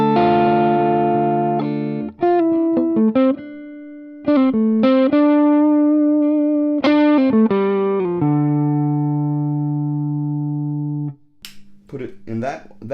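An electric guitar on a Vox Humana CarbonTech Special TE-Thinline with P-Rails pickups, set to the center position for the humbucker sound, plays sustained distorted chords and short riffs, loud and close. It ends with a few quieter scratchy strums.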